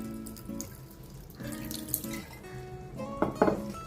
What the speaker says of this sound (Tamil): கொஞ்சம் தண்ணி ஊற்றி கழுவி ஊற்றணும்